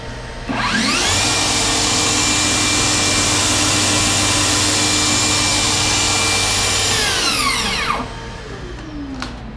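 A battery-powered vacuum attached to the back of an all-in-one work station switches on, runs as a loud, steady whine with a low hum for about seven seconds, then winds down and stops.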